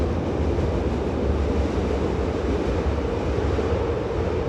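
A continuous broad rumble and roar of an elevated L train passing nearby, steady throughout with no voices.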